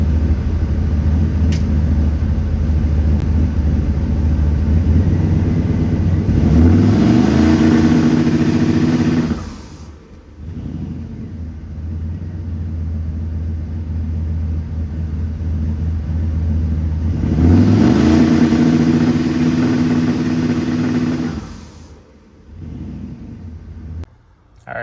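A turbocharged Ford OBS truck engine idles with a heavy rumble, then twice revs hard up to a 3,500 RPM limiter, holding there for several seconds before cutting back; a loud, close sound.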